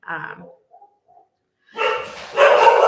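Dog barking from outside at a neighbor's, with the household dogs reacting indoors; a few short bursts at the start, then louder, denser barking and commotion near the end.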